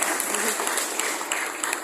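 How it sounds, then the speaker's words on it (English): Audience at the CityJS tech conference applauding a recently acquired startup, a soft, steady patter of clapping from a crowd heard at some distance, without speech. "So please give a round of applause for My Stash"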